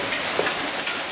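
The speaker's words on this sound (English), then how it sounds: "So it's a proper hailstorm." Hail pounds down outside in a massive storm, heard as a continuous dense patter of hard pellets striking surfaces with a few sharper impacts, steady and fairly close, with no voices.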